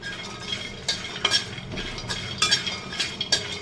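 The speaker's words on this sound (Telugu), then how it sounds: "ఇవి కూడా ఫ్రై చేసుకుందాం." Cloves, cardamom and shahi jeera fry with peanuts and coconut in a pan as a spoon stirs them. Roughly eight quick scraping, clinking strokes sound over a faint sizzle.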